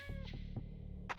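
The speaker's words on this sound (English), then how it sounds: "I can hear her mewing." A cat mewing inside the video game Rogue Trader, several short meows in a row over a steady low game hum, close and clear, with a sharper cry near the end.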